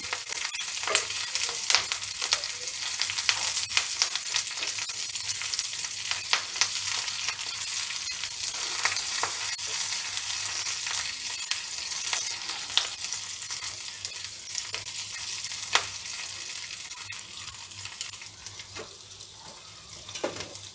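Green chillies fry in oil for a green chilli mango pickle, a steady dense sizzle and crackle with occasional stirring scrapes, loud and continuous throughout with no talk.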